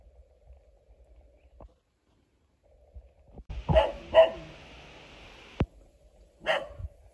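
A dog guarding a house barks a few times, in a sharp close pair and then a single later bark, against near silence.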